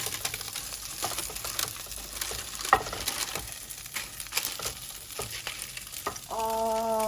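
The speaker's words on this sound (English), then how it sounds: "The salmon is doing great, so they've been cooking on medium heat for about 3-4 minutes" Salmon sizzling in a frying pan on medium heat, a steady crackling hiss with scattered pops and light scraping, ending in a brief tonal clatter; no talking.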